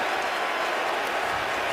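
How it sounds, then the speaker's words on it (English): A loud, steady roar from a football stadium crowd at a 2011 Redskins at Cowboys game, with cheering and applause rising in a dense wash of noise throughout. "This crowd's having impact right now."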